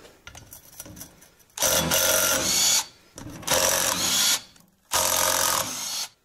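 A power tool whirs in three long, loud, steady bursts separated by short pauses while tightening the chain sprocket bolts on a Yamaha MT-07 motorcycle during a chain kit replacement.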